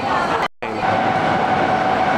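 A train at a station platform gives a loud, steady rumbling roar with a brief dropout, under a faint hint of voices nearby.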